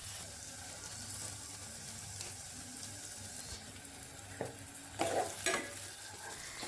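Spices and a cinnamon stick temper in hot oil for a soya curry, giving a soft continuous sizzle under faint stirring, then a few louder scraping clatters of a spoon near the end, with no voices.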